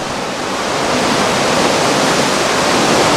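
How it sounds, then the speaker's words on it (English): Heavy rain pours down on a cruise ship around New Zealand, a dense, steady broadband rush that stays loud and unbroken throughout, with no voices over it. "Got a massive amount of rain here. Water just pouring down here."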